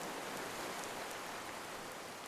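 Steady, soft rain falls as a continuous hiss in the video game Card Survival: Tropical Island, faint and even throughout with no voices.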